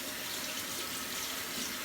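Warm tap water runs steadily into a sink while a plastic makeup sponge is rinsed under it, a constant close hiss with no talking.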